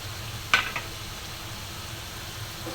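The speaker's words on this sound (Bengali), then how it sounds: "ডিম ভুনা করার জন্য মশলাটা কষিয়ে নিচ্ছি, ডিমটা দিয়ে দিচ্ছি" Eggs go into a pan of spiced masala for egg bhuna, a soft steady sizzle running throughout after a brief clink near the start.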